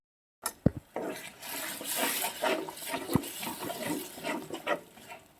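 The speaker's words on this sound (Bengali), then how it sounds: "একটু জল দিয়ে দিচ্ছি এবার একটা ফুটতে থাকুক" Water is poured into a palak paneer curry of spinach and coriander paste in a pan, giving a continuous splashing gush for about five seconds with a couple of knocks at the start.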